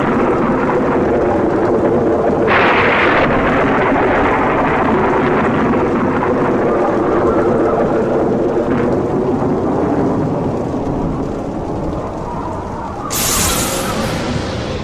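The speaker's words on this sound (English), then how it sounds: "Louder and louder did the winds howl, and the thunder and lightning crackle." Thunderstorm sound effect: sustained rumbling thunder and rain-like wash with a couple of brief brighter crackles, loud and continuous throughout.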